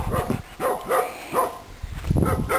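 A small pet dog barks in a series of about six short, fairly loud yaps at an even pace, close to the microphone, with no talking over it.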